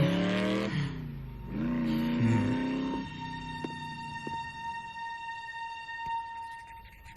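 A motorbike engine in the Transformers: Prime cartoon revs up in rising, whining surges, loud at first, then settles into a thinner, fading drone with a few faint clicks, and no one talks.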